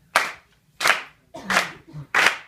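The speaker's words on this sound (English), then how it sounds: "You're going to clap on a regular beat, loudly, like this." Loud hand clapping on a steady, even beat during a participatory cantata-style performance: four sharp, evenly spaced claps, close and strong, with faint voices in the gaps.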